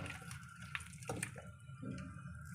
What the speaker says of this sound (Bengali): এখন এগুলো আমরা সবগুলো প্রেসার কুকারে দিয়ে দিব